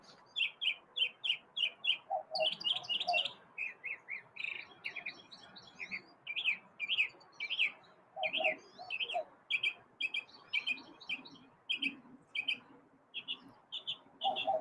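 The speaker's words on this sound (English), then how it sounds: "And the birds are singing, so take it away, birds." Birds sing in a backyard at Ravenscar in a lively morning chorus. Repeated bright chirps and short trilled phrases come in quick rhythmic bursts, fairly close and clear against a quiet background, with no talking.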